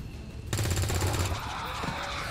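Rapid, loud automatic gunfire erupts in a video game alien-invasion battle, a half-second of quiet giving way to a steady rattling stream of shots that continues to the end.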